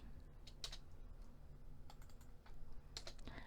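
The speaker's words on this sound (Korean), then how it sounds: "스페이스바 눌러서 빈 공간으로 두시고요" Keys click on a computer keyboard, including space bar presses, as a few quiet, sparse taps spread across a low room background with no talk.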